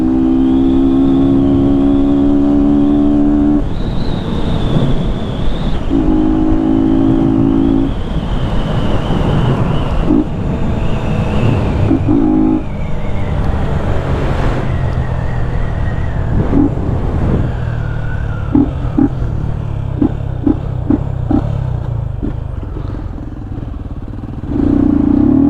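A Yamaha FZ 250 motorcycle running without an air filter roars steadily while riding, its engine note rising and dropping through several gear shifts with wind noise, loud and close for the whole stretch.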